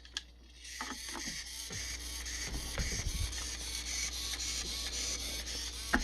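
The steering servo of a Redcat Racing nitro RC drift car whirs mechanically as it sweeps back and forth, giving a steady, close, buzzing sequence of short motor pulses with some faint clicks.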